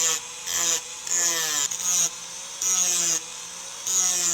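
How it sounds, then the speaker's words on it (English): A 3D printed plastic knife blade is sharpened with a tool, giving repeated rasping strokes in bursts of roughly half a second to a second, close and moderately loud, with no talk. "Next, I want to try sharpen the blade just slightly."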